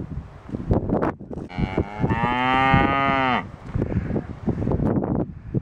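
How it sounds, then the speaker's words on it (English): Cattle moo in one long, loud, drawn-out call, nearby outdoors on a countryside walk, with people's chatter and other sounds before and after. "Quintessential mooing."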